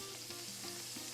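A stick of regular butter melts in a hot pan with a faint, even sizzle and quiet crackle, low in level and steady throughout with no talking.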